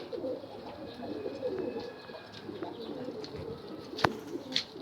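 Several pet pigeons or doves coo softly in a home aviary, their low murmuring calls running through the whole stretch, with a sharp click or flutter near the end and faint background noise.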